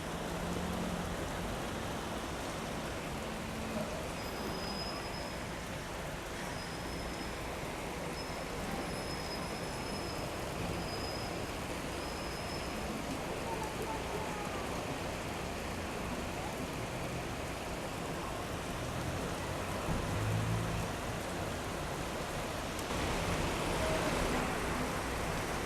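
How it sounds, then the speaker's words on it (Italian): Light spring rain falls steadily in Quartu Sant'Elena, a soft continuous hiss of drops that runs unbroken throughout, with faint distant traffic underneath. "Adesso sta pioggiando, pioggia leggera."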